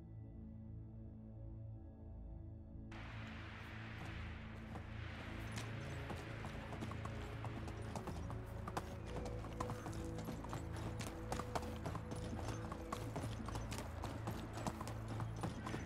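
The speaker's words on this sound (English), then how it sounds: "I'm gonna go put the horse in for the night." Horse hooves clop at a steady walking pace in the medieval village survival game Medieval Dynasty, with a continuous rhythm of fairly close hoofbeats over a constant low ambient game background.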